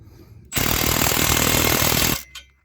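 Power impact wrench with a deep well socket tightening a bolt on a broken, leaky car exhaust, one loud sustained rattling burst of about a second and a half, close up, with no talk.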